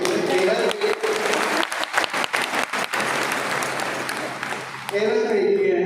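An audience at a yoga retreat class in Rajnandgaon claps in a dense burst of applause that runs steadily for several seconds before tapering off, with voices heard briefly at the start and again at the end.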